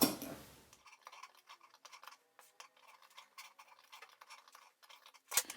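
Sharp scissors snip repeatedly into the curved seam allowance of a fabric face mask, a quick irregular series of close crisp clips in a quiet room.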